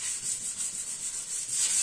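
Sandpaper of 240 grit wrapped on a sponge rubs over an Acura car body where rust was ground back and welded. Close, rhythmic back-and-forth scrubbing strokes repeat evenly with no voices.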